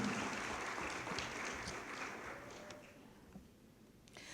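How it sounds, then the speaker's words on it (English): An audience at a community breakfast applauds, a fairly quiet, spread-out patter of many hands that gradually thins and fades toward the end. "Round of applause, please"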